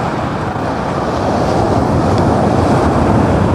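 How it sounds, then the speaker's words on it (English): Ocean waves wash steadily onto the beach at San Juan del Sur, Nicaragua, a loud, continuous surf roar with wind buffeting the microphone and no voices. "The water here on the beach has a little bit of waves"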